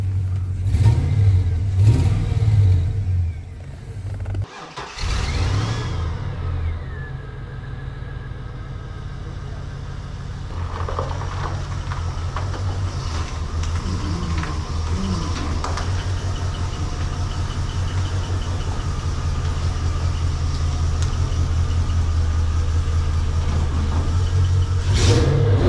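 A 1967 Chevrolet C20 truck fitted with an LS engine idles with a steady low rumble, a sharp rev and brief cutout near the start, then keeps running evenly and close up for over twenty seconds, slightly rough-sounding.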